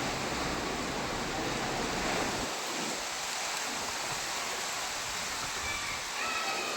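Heavy rain driven by strong wind, a dense steady roar of downpour and gusts that fills the whole clip, close and loud with no voices.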